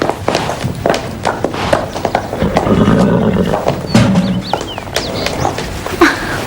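A horse moves close by with hoof clops, snorts and a brief whinny, in a loud busy scene.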